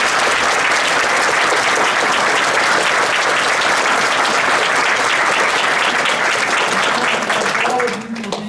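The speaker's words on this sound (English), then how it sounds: "let's give Peter Kern a nice round of applause" An audience gives a warm round of applause for Peter Kern at a Lehigh Valley Heritage Museum event, loud and sustained clapping that carries on evenly before tapering off at the end.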